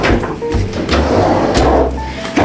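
A drawer in an apartment slid open and shut several times, loud close wooden scrapes and knocks with a bar of soap being put away inside.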